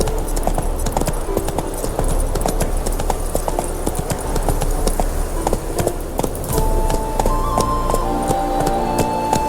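A horse gallops in The Witcher 3 video game, a rapid, continuous clip-clop of hooves that is loud and close, with a melodic tone entering partway through.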